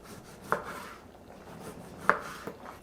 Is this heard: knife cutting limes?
yes